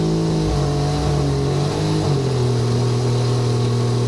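A V8 turbo-swapped Toyota Supra engine revs loud and close under hard drag-launch acceleration, a steady roaring drone whose pitch climbs, then drops and climbs again as it shifts gears.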